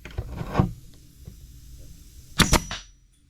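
A pneumatic nail puller fires nails out: two sharp bangs, one early and a louder double crack later, with faint scraping and rattling in between as nails ricochet.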